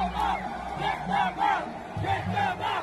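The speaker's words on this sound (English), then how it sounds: "everyone in the stadium was chanting for them to be removed" A stadium crowd at a fight event chants in unison, rhythmic loud swells of massed voices repeating roughly every half second, filling the space with a roaring background.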